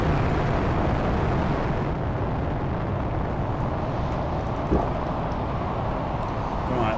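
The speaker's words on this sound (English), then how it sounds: "These rockets are coming in." Incoming rockets in the survival game Planet Crafter make a loud, steady, broad roaring rumble that fills the whole stretch without letup, with no talking over it.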